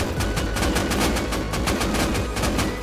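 Rapid automatic gunfire in the survival video game Rust, a loud, continuous stream of evenly spaced shots over a dense, noisy background.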